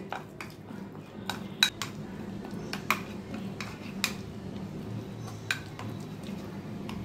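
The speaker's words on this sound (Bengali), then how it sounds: "চটকে পেস্টের মধ্যে ভালো করে মিশিয়ে নেব।" Utensils clink and scrape against a bowl while a paneer cutlet filling is mashed and mixed into a paste, a steady soft low rumble broken by sharp ticks and taps, with no talk.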